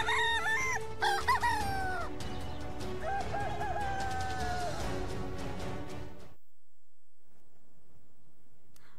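A human voice imitates a rooster, giving several drawn-out cock-a-doodle-doo crows close by, one after another, with a faint second crowing voice among them, before the sound cuts to near silence.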